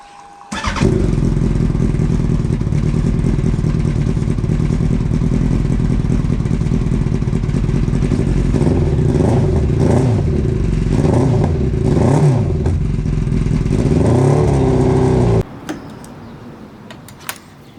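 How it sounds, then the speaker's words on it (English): A motorcycle engine, just back from a fuel system cleaning and with one cylinder running cooler and misfiring, cranks and catches, then runs loud and close with a ticking, clattering idle and a few blips of throttle before cutting off abruptly. "So we got it all running."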